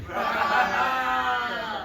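Audience at a stand-up comedy and storytelling show bursting into sustained applause and cheering, a dense, steady crowd roar filling the room at close range.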